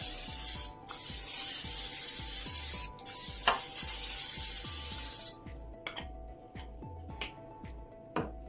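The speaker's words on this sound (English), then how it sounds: "I'm gonna spray the bottom of the pan just in case" Cooking spray hisses steadily onto the bottom of a casserole pan, one long continuous spray followed by a shorter burst, with a faint rhythmic background hum and a few soft clicks near the end.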